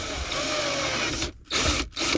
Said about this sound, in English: We're gonna take our 7/32 drill bit and we're gonna drill a hole right here.